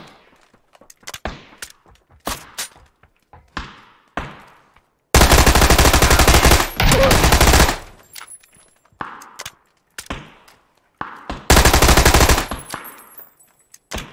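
Bursts of automatic gunfire aimed at the player in PUBG, sharp single shots scattered between two long, loud sustained volleys, close and harsh with echoing tails.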